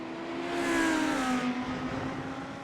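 Lamborghini race car engines roar around Watkins Glen in a racing video game, a loud, steady, high-pitched engine drone that holds for under three seconds with a slight rise and fall in pitch and no talking.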